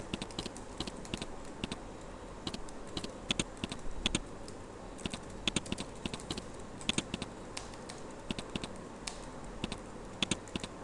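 Narration is typed on a computer keyboard in TallyPrime accounting software, a quick uneven run of close key clicks with a few louder taps.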